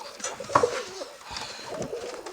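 Pigeons coo softly in a pigeon loft, a few low throaty coos rising over quiet background rustle and faint movement.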